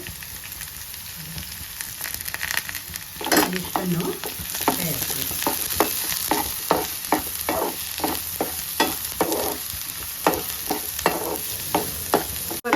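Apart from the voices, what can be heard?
tempering curry leaves and onion in hot oil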